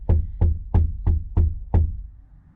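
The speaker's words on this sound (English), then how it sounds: "He's literally knocking on my truck." Six firm knocks strike a pickup truck's canopy at a campsite, evenly spaced hollow thuds close by and loud, with the last one fading into quiet.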